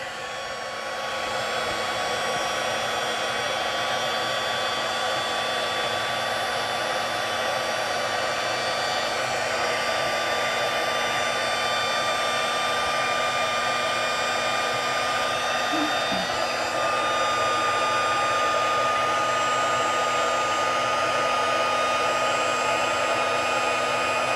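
An embossing heat gun runs for the whole stretch, a steady, close, whining blower hum with a constant pitch and no pauses.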